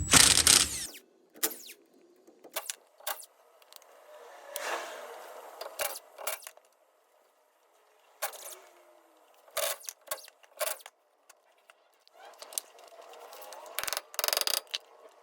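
Ratchet work on 15 mm bolts at the differential of a first-generation Cummins diesel truck: intermittent close clicking and scraping bursts with quiet gaps between them, one loud burst at the start.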